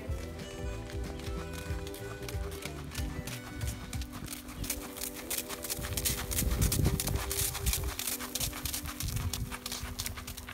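Horse hooves clip-clopping during Western pleasure riding, a steady rhythmic beat throughout that grows louder and busier toward the middle, set under a continuous layer of background music.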